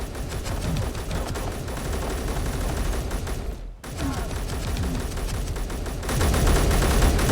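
Gunfire in Space Engineers rattles in dense, rapid bursts of shots that run almost continuously, briefly cut off midway, then resume even louder and closer toward the end.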